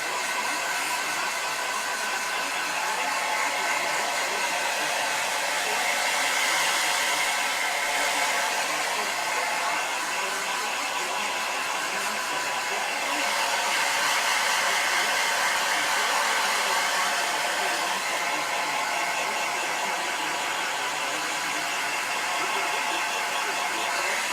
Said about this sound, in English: Make sure you're moving the dryer around.